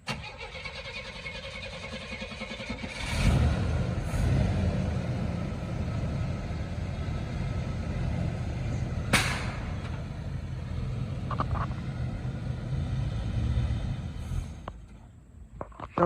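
An Oldsmobile Cutlass engine cranks and catches, then runs at a steady rumble as the car rolls forward, with a couple of brief sharp clicks partway through and the motor fading near the end.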